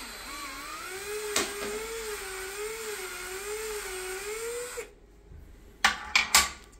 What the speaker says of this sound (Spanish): esto voy a atornillarlo lentamente, lo que va a hacer fuerza para poder, primero se incrusta en el perno y después lo va a extraer.